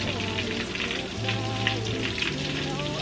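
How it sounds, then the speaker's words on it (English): Steady sizzling and crackling of tomato paste frying in a pot for jollof rice, a dense hiss running throughout at moderate volume. "and it'll start frying"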